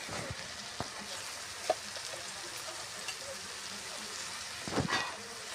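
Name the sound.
tomatoes frying in oil for Punjabi rajma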